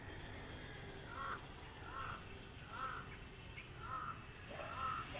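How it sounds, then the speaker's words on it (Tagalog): A crow caws five times at an even, unhurried pace, moderately distant, over a faint background hum. "May uwak."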